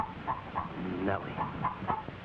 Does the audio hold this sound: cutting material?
no